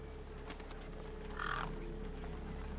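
A crow caws once in the middle of a video game scene, a brief harsh call over a steady low ambient hum.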